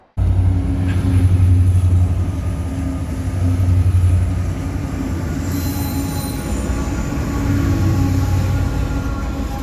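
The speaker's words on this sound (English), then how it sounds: "trains can sneak up on you pretty easily, as this westbound stack train did at Tunnel 36" A westbound double-stack intermodal freight train rolls past at Tunnel 36 on Union Pacific's snowy Donner Pass, heard loud and close with a steady low rumble of wheels and cars, thin high wheel squeal riding over it throughout.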